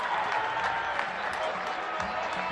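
A cricket crowd at Harare Sports Club roaring and applauding after a wicket, a dense steady wash of cheering and clapping with commentary speech mixed in.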